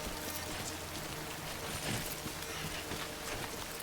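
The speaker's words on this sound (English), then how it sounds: "Maybe I need to wait out the rain." Steady rain falls in the video game Death Stranding, a continuous even hiss of drops on surfaces that runs throughout at moderate level, with no talking.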